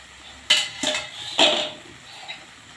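Rice poured into a pan of roasted spices on a stove, a few sharp metallic clinks and scrapes against the pan in separate bursts, close and clear with no talk.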